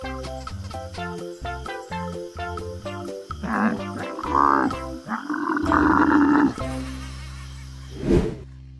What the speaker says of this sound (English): Dromedary camel.